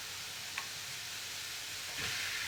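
Beef kefta frying with onion in a pan, a steady soft sizzle that swells slightly near the end, quiet and continuous with no talking.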